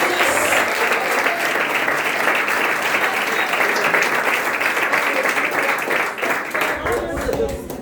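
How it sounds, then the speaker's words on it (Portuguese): A church congregation at a Pentecostal IPDA congress in Eldorado, São Paulo, breaks into sustained, loud, dense applause that fills the hall and tapers slightly near the end. "Palmas que agradecem a Jesus."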